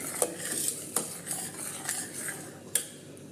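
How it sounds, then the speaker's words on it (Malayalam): Milk heating in a pot for cooker payasam is stirred steadily, the spoon clinking and scraping against the metal several times over a light simmering hiss, close and clear, with no speech. "അപ്പോൾ പാല് ഒന്ന് നന്നായിട്ടൊന്ന് ചൂടായി ഇളക്കിക്കൊണ്ടിരിക്കണം അടുക്കി പിടിക്കരുത്"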